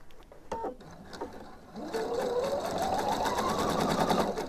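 A sewing machine stitching a blouse facing at the shoulder seam, with a few short starts and stops before settling into a steady, close run of fast stitching.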